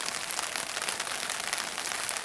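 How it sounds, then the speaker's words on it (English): Rain pattering on a sil-nylon tarp shelter over a low cooking fire, a steady light hiss of dense small taps, close and even, with no voices. "It's not raining too hard."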